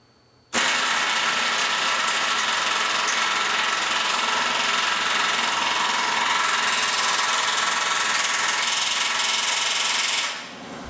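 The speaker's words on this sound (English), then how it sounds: "then tighten it with the butterfly wrench" A pneumatic butterfly wrench drives a nylon-filled lock nut onto a half-inch bolt, a loud, steady buzzing whir that starts abruptly, holds for about ten seconds and then winds down.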